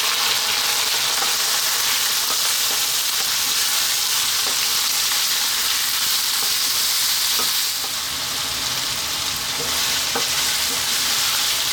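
Garlic ginger paste and fresh chilies fry over lively heat in a pan, a loud, continuous close sizzle with occasional stirring scrapes and no talking.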